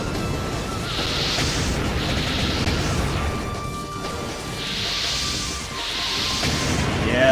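Explosions and crashing impacts in a pro tournament fighting game match on a Flat Earth stage, several loud bursts and whooshes recurring in rough waves.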